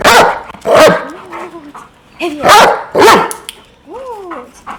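A dog barks in short loud bursts, several yips and barks spaced across the moment, with a voice speaking between them.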